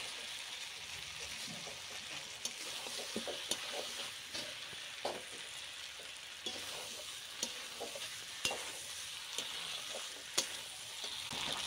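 Fried potatoes tipped into a mutton curry set off a steady sizzle and frying hiss in the pan, broken by repeated sharp stirring scrapes and clinks at irregular intervals.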